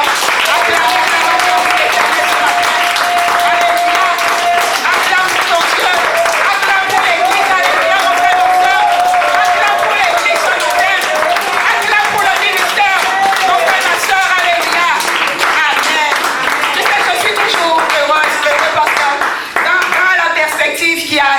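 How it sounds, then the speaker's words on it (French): A church congregation at a French-language worship service gives a sustained ovation, dense applause and clapping running for over twenty seconds beneath a voice and music. "Alors donne une grande ovation."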